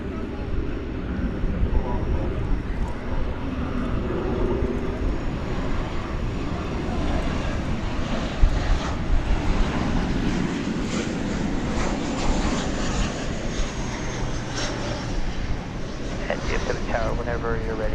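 Airplane noise at DFW airport, a steady broadband roar that swells gradually and holds for the whole stretch, with radio chatter and a voice talking over it.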